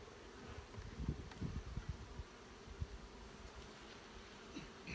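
Honeybees buzz softly around brood frames of an opened hive, a faint continuous drone with occasional louder passes near the microphone.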